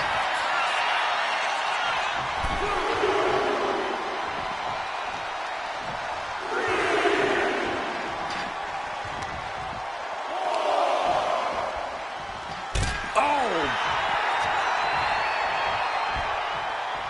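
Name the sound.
crowd cheering in WWE 2K25 video game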